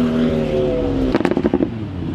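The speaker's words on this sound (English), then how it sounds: "There's this Supra right here that, like, it sounds like we are in a fucking war zone right now." A Toyota Supra's loud engine rumbles steadily, then a rapid burst of sharp exhaust crackles and pops rings out close by.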